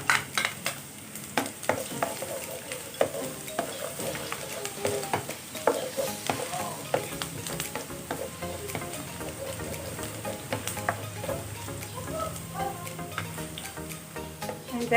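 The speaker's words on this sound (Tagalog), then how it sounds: "So, mag-start na tayong maggisa. So, unahin ko itong bawang." Garlic sautés in oil in a pan, crackling steadily while a utensil stirs and scrapes in frequent close taps. The sizzle stays moderate and continuous throughout, with no talk.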